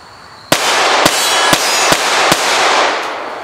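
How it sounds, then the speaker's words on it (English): Ruger LCP compact pistol firing ARX self-defense ammunition at an outdoor range: five sharp, loud shots spaced about half a second apart with ringing decay between, followed by a fainter sixth report. "Now I'm going to go to the LCP, which is a smaller gun."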